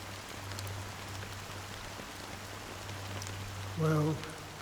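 Steady rain falls in the video game Honkai: Star Rail, a soft even patter with a low constant hum beneath it and a brief tonal chime near the end.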